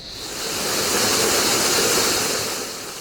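Artificially pumped waterfall in Antalya, a steady, full broadband rush of falling water that swells in and holds loud throughout, with no voices.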